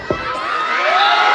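A crowd at a village kabaddi match in Chhattisgarh cheers and shouts in a brief, dense burst of noise that swells and holds steady.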